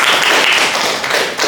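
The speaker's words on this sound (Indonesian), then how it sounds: "Tepuk tangan buat temannya dulu." A classroom of students claps for a classmate after a lesson on virus replication, a dense burst of applause filling the short moment up close and loud, with no talk over it.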